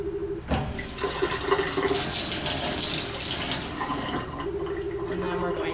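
Tap water runs into a sink to rinse a stained microscope slide of an ear cytology sample in a veterinary lab, a steady close splashing stream that surges louder for a couple of seconds and then settles back.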